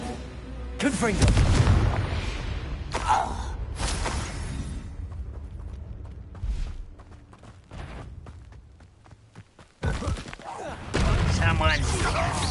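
Confringo spell blasts in Hogwarts Legacy burst out in loud, booming explosions, several heavy hits separated by quieter stretches, with a voice speaking between them and footsteps faintly audible.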